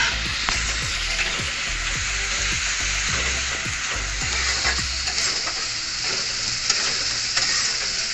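Ginger garlic paste sizzles and fries steadily in a pan for a paneer masala, a close, continuous crackling hiss with scattered spatters and light stirring scrapes.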